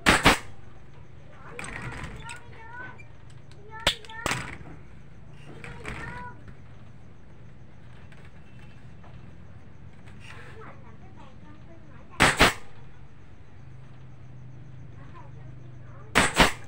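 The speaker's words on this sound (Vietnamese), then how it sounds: "Súng là bắn hơi ha. Bắn hơi." A few sharp, loud bursts of a pneumatic air gun firing during handcraft weaving work, spaced irregularly with long gaps, while people talk quietly between shots.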